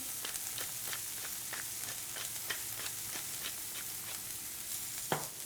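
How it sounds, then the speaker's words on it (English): Onions sauteing in hot oil in a pan with salt and black pepper for a Parmesan and steak frittata, a soft steady sizzle with rhythmic stirring scrapes and one sharper clack near the end, fairly quiet. "We're just going to take our onions and start to saute"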